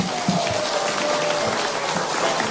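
Studio audience applause on an Indonesian TV talk show, a broad steady wash of many hands clapping that fills the whole short stretch at moderate loudness with no voices on top.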